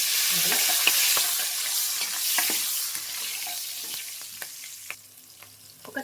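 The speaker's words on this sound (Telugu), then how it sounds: "నూనె బాగా వేడైన తర్వాత పావు టీ స్పూన్ మెంతులు వేసుకోండి పావు టీ స్పూన్ జీలకర్ర ఒక రెండు మూడు పొడుగు తగ్గించుకున్న పచ్చిమిర్చి కరివేపాకు వేసుకోండి" Fenugreek seeds, cumin, green chillies and curry leaves sizzling in hot oil, a bright crackling hiss that starts loud and gradually settles, with scattered sharp pops and spits along the way.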